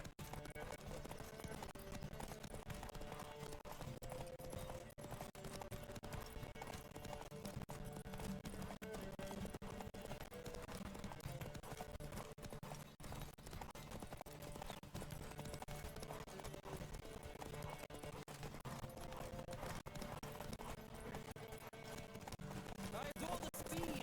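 Rapid, continuous clip-clop of horses galloping in the video game The Witcher 3 over a steady background, with some voices mixed in throughout.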